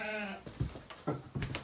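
Sheep bleating outdoors in a pasture at winter's end, one drawn-out quavering bleat followed by scuffling, faint footsteps and movement nearby.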